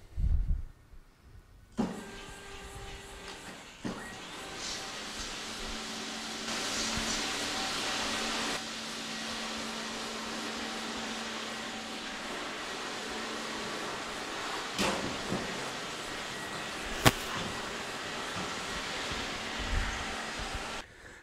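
A Bulldog floor scrubber works its way along a row of toolboxes in a car dealership, giving off a steady motor drone and brushing whir with a few clunks and bumps as it runs close alongside.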